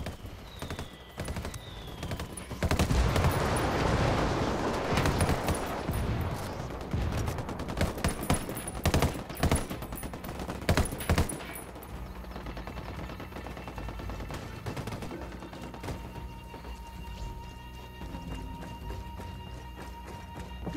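Rebel mortar strikes in Ghost Recon Wildlands land as a burst of loud, dense blasts and crackling gunfire for several seconds, then fade into quieter scattered pops and ambient battlefield noise.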